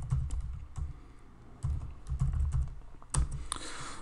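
Computer keyboard typing in irregular bursts of close, crisp keystrokes with short pauses between them, entering text into video editing software.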